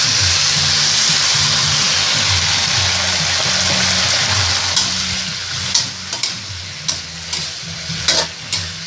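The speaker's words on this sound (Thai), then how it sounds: "เติมน้ำลงไปนิดนึงนะครับ" Chinese kale stir-frying in a hot pan as a little water goes in, a loud continuous hiss and sizzle, then sharp clanking stir strokes repeating near the end, close up with no talk.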